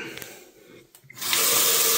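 Water runs steadily from the tap into a hotel bathroom sink, starting abruptly after a brief clatter and continuing as a loud, close, even hiss.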